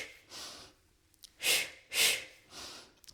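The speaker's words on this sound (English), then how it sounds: "Exhale, exhale, inhale." Rhythmic breaths during a mat Pilates exercise: a soft inhale, then two strong, close exhales in quick succession and another lighter breath, airy and alone without speech.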